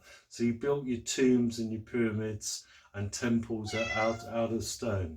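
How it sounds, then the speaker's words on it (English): A pet cat named Persephone meows several times in clear, close, tonal cries, heard under continuous talking from a nearby speaker. "That's my cat, Persephone."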